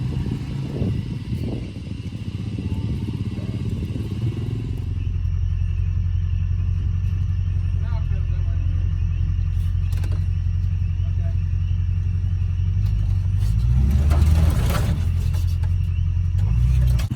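An OBS Chevy project truck's engine rumbles low and steady as it pulls out, revving up briefly near the end, while people talk over it early on.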